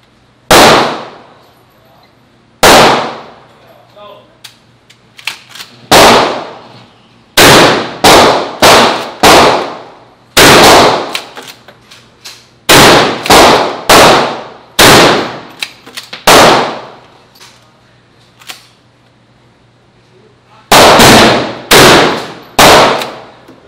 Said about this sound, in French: Là on tire avec de la slug aujourd'hui.